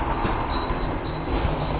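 A Hong Kong tram running, its steady rumble and rolling wheel noise continuous throughout, with a thin high squeal from the wheels riding over the top.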